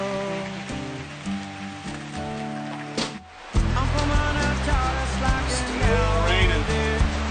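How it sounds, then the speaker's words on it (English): Steady rain falls on a backcountry road near Crater Lake, Oregon, making a continuous hiss. Tonal sounds run alongside it, and the rain grows louder partway through. "Still raining."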